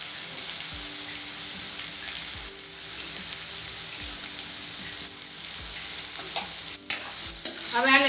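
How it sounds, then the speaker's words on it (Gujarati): Sliced potato chips frying in a pan with chopped ginger and green chillies, a steady sizzle running throughout with occasional stirring scrapes and clinks, fairly close and loud. "હવે આપણે આની અંદર સૌથી પહેલા બટેકાની ચિપ્સ જે છે એ બધી નાખી દઈશું"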